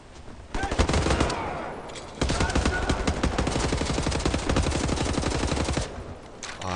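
Sustained automatic gunfire in the shooter game Wolfenstein: The New Order comes as loud, rapid-fire bursts. A short break separates an opening volley from a longer continuous stream of shots.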